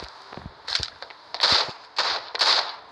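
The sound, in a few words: sniper rifle shots in video game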